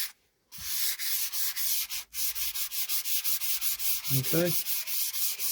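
Wet and dry sandpaper rubs along a fishing rod blank in quick, regular back-and-forth strokes, close and fairly loud, with a short pause near the start and one brief spoken word.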